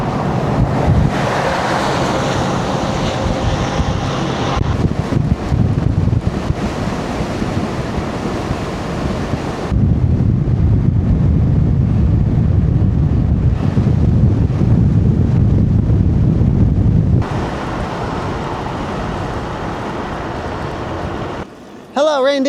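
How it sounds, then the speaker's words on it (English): Arctic Ocean surf and strong wind on the Norwegian coast, a loud, constant roar of gusting wind buffeting the microphone over rushing waves, dropping slightly near the end. "I'm pretty sure that's the Arctic Ocean."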